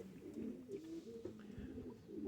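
Pigeons in a pigeon loft, soft low cooing that rolls on continuously and close by, with a louder coo right at the end.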